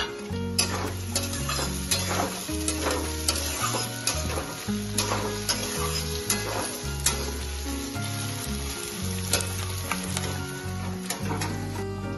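Chopped tomato and two slit green chillies frying in a pan for achari karela, with steady sizzling and repeated stirring and scraping clatter throughout.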